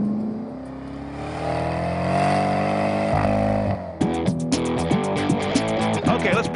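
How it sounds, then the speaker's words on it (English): A 2012 Chevrolet Camaro ZL1 on the move, its V8 exhaust droning and rising in pitch for a few seconds before giving way to sharper, pulsing bursts. "And it's got one of the great exhaust notes"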